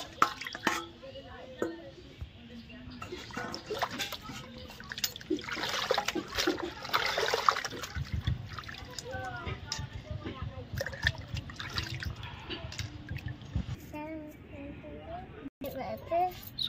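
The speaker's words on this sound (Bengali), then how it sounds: "তো বন্ধুরা আমরা ভালো করে মাংসটা ধুয়ে নেব।" Raw meat washed under running water in a kitchen, with a steady trickle and splashing that continues throughout, while a person talks and a voice is heard.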